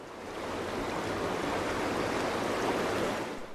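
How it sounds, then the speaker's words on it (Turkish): The Murgul stream in Artvin, swollen after heavy rainfall, rushes with a steady, loud broadband roar of churning water that swells in and holds without pause. "yağış sonrası debisi yükselen Murgul Deresi'nin görüntüsü var"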